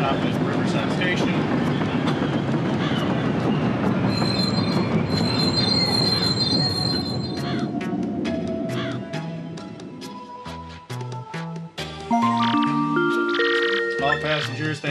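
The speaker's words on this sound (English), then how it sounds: "So the train's going to stop at Riverside Station." Train wheels squealing as a train pulls into a station in the Paper Mario: The Thousand-Year Door video game, a loud sustained metallic screech with clanking, followed by chiming game music notes.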